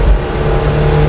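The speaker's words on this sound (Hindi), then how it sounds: "बहुत दिनों के बाद भाई गोल्फ कोर्स रोड पे अपनी जिप्सी को खींच रहा हूँ" A Maruti Gypsy pulls hard on Golf Course Road, its engine giving a loud, close, rough growl under acceleration throughout the short moment.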